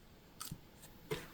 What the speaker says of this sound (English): we're just cutting off our zipper